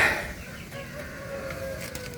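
Hens and chickens, including a large black Jersey hen, clucking softly at a farmyard coop, with faint, intermittent calls over steady background noise.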